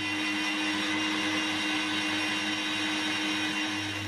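Kitchen food processor, the one used for grating parmesan, runs in a continuous loud motor whir with a steady hum, no pauses and no voices.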